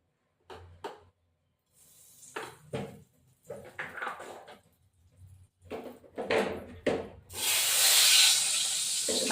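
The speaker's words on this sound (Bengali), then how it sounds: "এবার এই মাছটাকে আমি দিয়ে দিলাম তেল গরম হয়েছে" Tengra fish hits hot oil in a home kitchen. A few sharp clatters and short bursts come first, then a loud, steady sizzling hiss fills the last two seconds.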